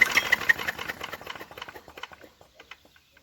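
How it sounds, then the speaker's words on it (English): A 1952 Clinton VS-700 small engine is cranked over, giving a quick rapid series of close mechanical chugs and clatters that slow and fade away within a few seconds without catching. "Time to start this engine."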